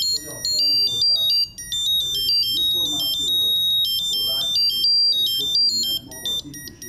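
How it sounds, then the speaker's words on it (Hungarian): A small electronic circuit built by children to make music plays a bright, beeping melody of shifting electronic tones, running continuously under someone speaking. "olyan bonyolultabb áramköröket építenek fel, mint például ez a zene előállítására alkalmas kis eszköz"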